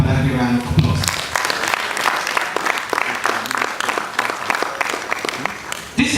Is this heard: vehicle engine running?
no